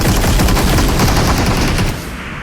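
Rapid automatic gunfire from the PUBG Mobile video game, a dense, loud stream of shots in quick succession that eases slightly near the end, with no talking over it.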